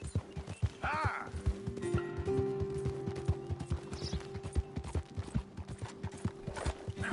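A horse gallops in Red Dead Redemption 2, its rapid rhythmic hoofbeats steady and close, with a brief whinny and faint tack rattle early on.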